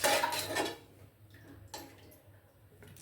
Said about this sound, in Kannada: ಇವಾಗ ನಾನು ತೆಕ್ಕೊಳ್ತಾ ಇದ್ದೀನಿ ಬೇರೆ ಒಂದು ಪಾತ್ರೆಗೆ